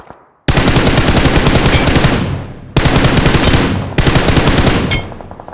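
Loud automatic gunfire in BGMI (PUBG Mobile) comes as three sustained rapid-fire bursts of a couple of seconds each, separated by short gaps, close and dense with no talking.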